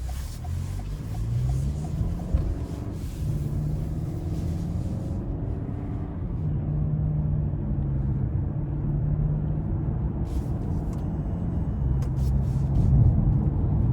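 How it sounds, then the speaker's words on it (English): Cabin of a 2021 Toyota Avalon Limited AWD on the road, with a steady low engine and tyre rumble and road noise holding level throughout, no voices. "take this Avalon Limited out on the road for a quick test drive"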